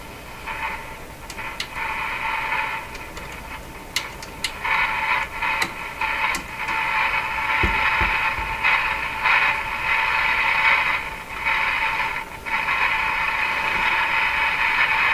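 An RCA Victor A23 tube radio warming up on a reduced supply of about 80 volts gives off a wavering midrange hiss and static with scattered crackles and pops, fairly loud and close, with no talking.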